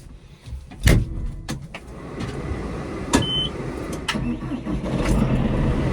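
A John Deere 5125M tractor engine cranks and catches amid clunks and thumps, then settles into a steady, close rumbling idle with broadband mechanical noise.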